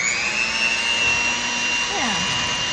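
An electric mixer runs on low speed through brownie batter, a steady close whirring drone with a faint rising and falling tone, under a quiet voice.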